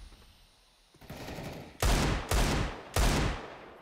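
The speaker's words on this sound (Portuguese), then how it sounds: "Olha tanto tiro, mano." Gunfire rings out in Counter-Strike: Global Offensive: rapid automatic bursts, three loud volleys close together after a softer lead-in of distant shots, with no talk over them.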